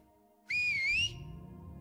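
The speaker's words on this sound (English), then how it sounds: "What about the whistling like this?" A person gives a wolf whistle: one short, clear whistled note of about half a second with a wavering pitch, standing out over low background noise.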